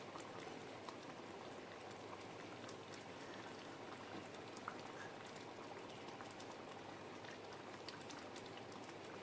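Tilapia fish curry in oil and chilli sauce simmers in a pan, giving a steady, dense bubbling and sizzling with tiny pops throughout, close and even, with no voices.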